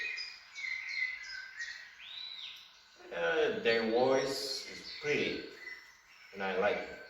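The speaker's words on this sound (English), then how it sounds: "birds tweeting. Their voice is pretty." Birds tweet with a quick run of bright, high chirps, then a person starts talking over the last of the calls.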